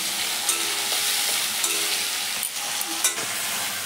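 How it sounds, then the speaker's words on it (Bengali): Tomato, chili and onion fry in a pan with a loud, steady sizzle, punctuated by a few sharp clicks and scrapes of stirring. "এই যে টমেটার তারপরে পেঁয়াজ এগুলো ভাজা ভাজা হয়ে গিয়েছে"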